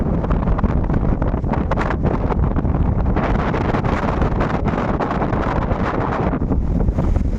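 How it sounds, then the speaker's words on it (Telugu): Loud, constant wind buffets the microphone in a heavy roar aboard a ship at sea, with a faint wash of sea and boat noise beneath; no one speaks. "ఇది గాలి పోతుందంటే ఎంత స్పీడ్గా గాలి వేస్తుంది"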